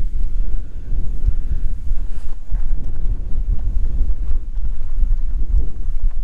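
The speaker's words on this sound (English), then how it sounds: "It is a windy, windy day out today." Strong wind buffets the microphone outdoors at a bison ranch on a windy fall day, a loud, steady low rumble with gusty fluctuations and no voices.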